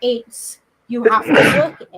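A single short sneeze bursts out in the middle of casual conversation, with people talking just before and after it.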